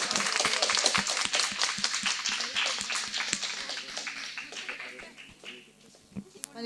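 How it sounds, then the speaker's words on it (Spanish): A classroom audience gives student Josefa a round of steady clapping, many hands beating at a brisk, even rhythm for several seconds before tapering off and fading into quiet room noise. "Aplauso para Josefa"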